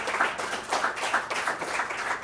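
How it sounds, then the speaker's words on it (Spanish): A church congregation claps at an Easter service, with hands striking together in a quick, fairly even rhythm. The sound is moderately close and continuous, with no speech over it. "Démosle un aplauso al Señor."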